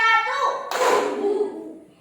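Schoolchildren in a classroom clap their hands in one sharp burst together, following a stretch of sung or chanted voices, with the sound then fading away.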